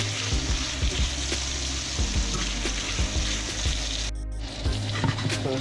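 Meat sears in a pan on an electric stove, a soft continuous sizzle and crackle with occasional light scrapes and clinks, fairly quiet and close, with no talking.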